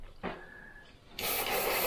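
An airbrush sprays into a plastic cup lined with paper towel: a short hiss, a pause, then a steady loud spray of air close by.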